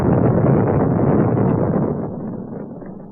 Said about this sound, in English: The sound of NASA launching Apollo 9 on this date in 1969 to test the lunar landing module